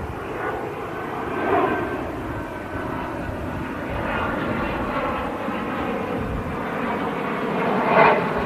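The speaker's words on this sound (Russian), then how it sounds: "И как раз летит самолетик." A small airplane flies over near an airport, its engine drone rising and falling steadily as it passes overhead at moderate distance, with no talking over it.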